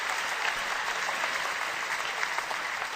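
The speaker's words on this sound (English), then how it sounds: "Let's give him a roaring round of applause" Sustained applause from a studio crowd, steady and dense clapping throughout with no break, filling the whole stretch at an even loudness.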